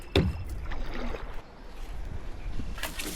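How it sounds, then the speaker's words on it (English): Kayak paddling downstream at Glendalough State Park, a paddle dipping and splashing through the water in a few soft strokes, close by, with light wind rustle and water movement between them. "I want to enjoy my downstream paddle"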